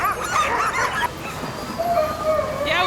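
Iditarod sled dogs at the race start yip, whimper and bark excitedly, several dogs close by amid a noisy crowd and voices.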